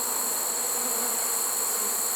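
A dense swarm of honeybees drones in a steady, continuous buzz around a swarm trap, the hum sustained and close without any other sound.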